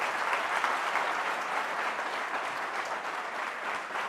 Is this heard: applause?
yes